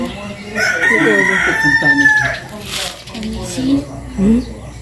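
A chicken bought by the village councilor crows with a drawn-out call near the start, while people talk in Tagalog over and after it.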